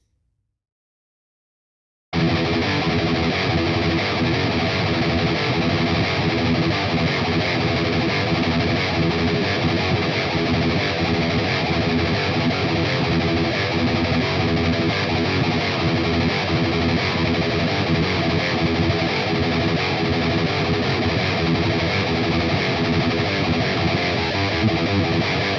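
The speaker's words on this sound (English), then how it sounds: "Flick your distortion on and let's get going with the verse riffs." After a brief silence, a dense, heavily distorted electric guitar plays sustained heavy verse riffs, loud and unbroken for the rest of the clip.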